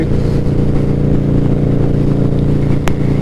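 A loud, close engine holds steady at about 4,000 RPM with a deep, even drone and strong low harmonics, plus a brief sharp click near the end.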